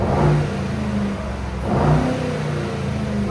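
A 2025 Mercedes GLE 63 S with a 4.0L bi-turbo V8 and straight-pipe exhaust revs hard twice, each loud close blip rising and falling back to a rough idle, no voices.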